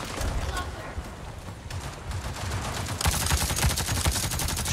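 Rapid gunfire from a weapon in the video game Avatar: Frontiers of Pandora, dense repeated shots running throughout and growing louder and brighter in the final stretch, mixed with game action noise.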